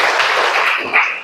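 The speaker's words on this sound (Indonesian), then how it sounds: "Tepuk tangan untuk Alfred." Classroom clapping for a student: a short, dense burst of hands clapping, close and fairly loud, lasting about a second.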